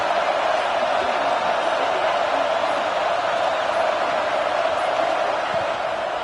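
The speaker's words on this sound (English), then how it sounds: "This crowd ready to make its presence known." A stadium crowd at a Zona vs Texas football game makes a dense, steady roar that holds loud and unbroken throughout.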